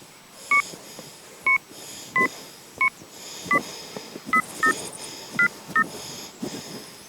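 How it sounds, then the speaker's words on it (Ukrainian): Telephone keypad dialing tones when calling a city inspection office: about ten short, evenly loud beeps at an irregular pace over quiet background hiss. "Телефонуємо у міську інспекцію із благоустрою."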